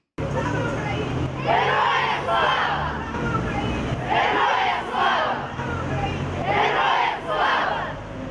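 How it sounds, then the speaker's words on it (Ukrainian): A large crowd at a street flash mob in Ukraine chants a well-known patriotic slogan three times in loud, rhythmic bursts, each roar rising over a steady murmur of open-air crowd noise. "Присутні заспівали гімн України та тричі вигукнули усім відомі слова."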